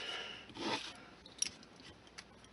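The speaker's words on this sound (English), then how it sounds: "it's just time to trim off the excess masking tape" Excess masking tape trimmed off HO-scale model building walls with a blade: a soft scraping, rasping cut, then a small sharp snip and a few faint ticks, close and quiet.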